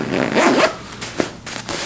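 A side zipper on a Patagonia jacket packed into its own pocket is pulled in a few quick rasping strokes, close up, with brief handling rustles between pulls.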